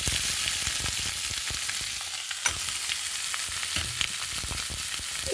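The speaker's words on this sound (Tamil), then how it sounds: "தாளிச்சப்புறமா நான் வந்து இந்த கட் பண்ணி வச்ச பீட்ரூட்டையும் அது கூட போட்டுடுறேன்" Cut beetroot fries in hot oil with a tempering, a loud, steady sizzle broken up by repeated scraping and clacking stirring strokes, close up and without talk.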